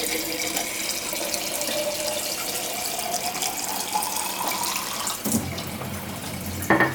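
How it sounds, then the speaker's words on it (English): Water runs from a tap into a jar or hydro flask, a steady gushing stream for several seconds, its pitch rising as the vessel fills, ending with a couple of clunks. "I fill up a jar or a hydro flask of water"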